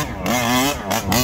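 A Losi 5T large-scale petrol RC car engine revs hard with a buzzing, rising-and-falling two-stroke whine, close and loud for about a second.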